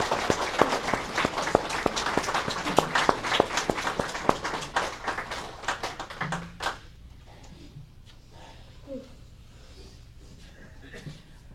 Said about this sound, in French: Applaudissons les Fantastic Four.